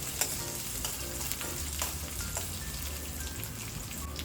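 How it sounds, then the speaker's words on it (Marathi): Chillies and spices sauté in a pan for spinach pulao, a steady close sizzle and crackle with a few light stirring clicks, no talk over it. "या सर्वांना आपल्याला छान असं परतून द्यायचं आहे."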